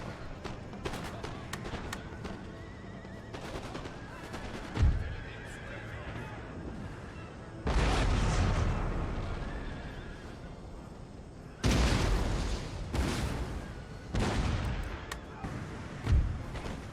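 Musket and artillery fire in the battle game Empire: Total War, with sharp booms and crackling volleys coming in bursts over a constant battlefield din, mixed with horse neighs and galloping hooves.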